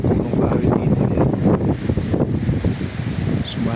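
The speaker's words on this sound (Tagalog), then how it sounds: "Ang lakas ng hangin." Strong wind roars steadily against the microphone and through trees on a farm near Sackville North, New South Wales, with a constant low rumble and gusty surges.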